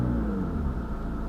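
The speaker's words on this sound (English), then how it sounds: "It's interesting how that restarts the car." McLaren 570GT engine turning over and settling into a steady, low rumbling idle up close, continuous for the whole moment with no voices over it.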